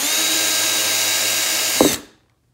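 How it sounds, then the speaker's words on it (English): A power drill boring pilot holes into plastic cargo trim in a 2016 Ford Explorer, a loud steady whine held for about two seconds, then a brief bite and a quick spin-down to silence. "So here we are drilling some pilot holes."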